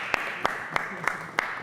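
Five sharp, evenly spaced claps ring out, about one every third of a second, from an audience applauding Ayomide at an open house fireside chat, over a low, steady room hum.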